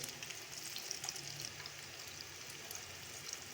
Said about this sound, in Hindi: देखिए पकोड़े रेडी हो रहे हैं।